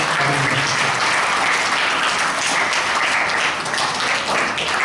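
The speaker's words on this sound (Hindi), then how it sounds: "जोरदार तालियों के साथ इनका स्वागत।" Loud, dense applause from a gathered audience at an Indian cultural camp welcoming a former GST commissioner, a sustained roar of many clapping hands with no voices over it.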